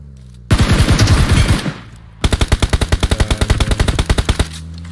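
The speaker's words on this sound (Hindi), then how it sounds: "ये राइट में फायरिंग हुआ अभी" Automatic gunfire in the battle royale game BGMI, one long rattling burst followed after a short pause by a second burst of rapid, evenly spaced shots, loud and close, with no talk over it.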